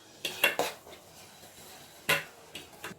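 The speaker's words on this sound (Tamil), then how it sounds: "இதை நான் ஒரு பாத்திரத்தை கிண்ணத்தில் எடுத்து வைக்கிறேன்" Sweet pongal being served from a pot into a bowl, with a few sharp clinks of a spoon or ladle against metal vessels, two quick bursts early on and another cluster later, close by, with no talk.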